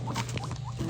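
Guinea pigs munch on food up close, a quick run of small crunchy chewing bites in steady rhythm over a low background hum.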